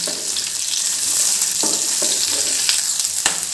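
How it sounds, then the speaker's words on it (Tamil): Onions sautéing in a pan for paneer capsicum masala, a loud continuous close sizzle with a few stirring scrapes, no talking. "அதையும் சேர்த்துக்கிறேன் சேர்த்து ரொம்ப குக் பண்ணக்கூடாது ஓரளவு கலர் மாறினதும் நம்ம எடுத்துடலாம்"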